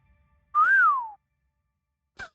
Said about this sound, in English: What a whistle.